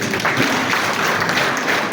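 Crowd applause at a public gathering in Musanze, Rwanda, a dense, even wash of clapping sustained for the whole short stretch without pause.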